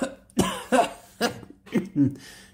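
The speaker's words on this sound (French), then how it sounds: "Une toux convulsive interrompt sa voix" A run of five harsh, spasmodic coughs in close succession, loud and near, each burst breaking off before the next.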